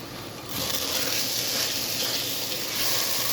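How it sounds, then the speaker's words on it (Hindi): Date paste cooking in a pan on a lit stove gives a steady, close sizzle and bubbling hiss that swells after a soft start and holds evenly throughout, with no talk. "खजूरों का पेस्ट पक रहा है"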